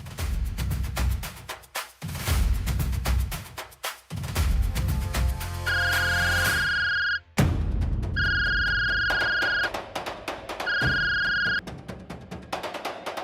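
An electronic phone ringtone chimes in repeated bursts of steady tones, separated by short gaps, over a busy background of music-like sound.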